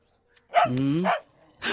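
A dog gives one loud, close bark, then starts another right after a short gap, in a comedic film scene with no talk over the barks.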